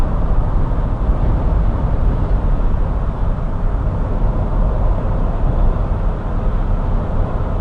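Inside a 2008 Chevrolet Tahoe Hybrid driving uphill at highway speed as the throttle eases on and off: a loud, steady broadband road and drivetrain roar fills the cabin throughout, with no voices.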